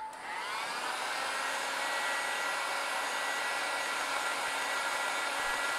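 Heat gun warming the screen of a Samsung A20e phone during a screen replacement, giving a constant close blowing whir with a high tone that rises at the start and then holds steady.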